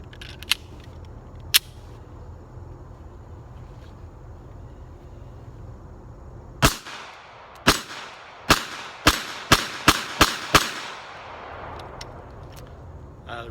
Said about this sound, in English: I'm going to take the extended magazine and fire it again.